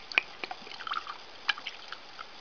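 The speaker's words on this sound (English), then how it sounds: "I add water" Water dripping and trickling into salt for cleansing crystals, a few scattered light drips and small splashes, close and quiet.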